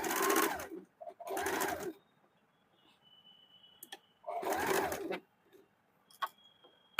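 Sewing machine stitching a strip on a blouse: three short bursts of fast, rattling stitching separated by quiet pauses with a few faint ticks and clicks.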